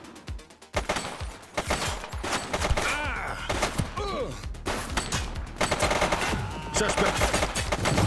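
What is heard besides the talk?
gunfire in the video game The Precinct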